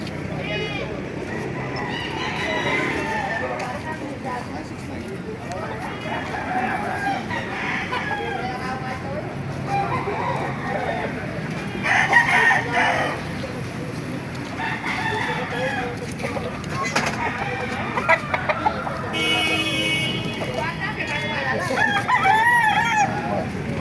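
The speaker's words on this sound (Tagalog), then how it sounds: "Mga manok dito." Roosters crow and hens cluck repeatedly in a busy farmyard of gamefowl, with people talking in the background throughout.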